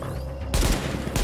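Gunfire erupts in The Division video game, a dense burst of rapid automatic shots cutting in over a quieter background and stopping briefly before more shots.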